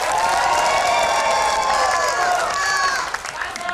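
Supporters of candidate pair number 2 at the Sorong regent election debate clapping and cheering loudly, a thick, sustained wash of crowd noise with shouting voices that dips briefly near the end.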